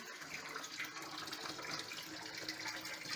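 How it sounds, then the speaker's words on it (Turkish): Water runs and trickles steadily from a hydroponic growing system lit by LED grow lights, where a broken fitting lets it drip; a close, continuous wet splashing with no speech. "buradan ufak bir damlatıyor onu da"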